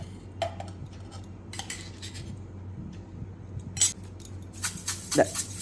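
A spoon stirs crispy fried dal mixed with ground spice powder inside a container, giving light scraping and clinking bursts at close range over a steady background hum.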